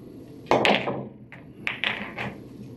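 A pool cue striking the cue ball into other billiard balls on a table rail shot: a solid clack, then a few quicker knocks as balls collide and hit the cushion, close and crisp in a quiet room.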